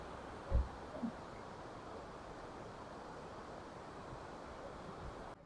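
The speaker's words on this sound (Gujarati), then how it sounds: "પાણીનો અવાજ આવે એ છે જબરજસ્ત" Rushing river water at Vishnuprayag near Jyotirmath in the Himalayas, a steady broadband roar that holds level throughout with a couple of brief thumps near the start.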